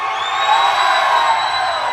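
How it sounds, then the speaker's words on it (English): A festival crowd of military guys from Dobbins Air Force Base at an outdoor amphitheater metal show screams and cheers in a dense, continuous roar, loud and sustained throughout. "Got guys over here screaming from Dobbins Air Force Base"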